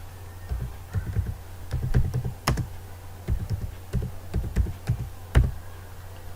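Keys clatter on a computer keyboard in short irregular bursts of typing, close and clear over a low steady hum.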